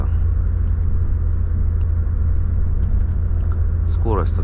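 A Volvo FH 540 truck drives along the Chita–Khabarovsk highway at night, giving a steady, loud low engine and road rumble that continues throughout, with a brief higher sound near the end.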